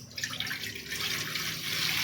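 Water poured from a container into a bowl, a quarter litre or so, while preparing junnu, a sweet milk pudding; a steady, fairly close splashing flow that stays even for about two seconds.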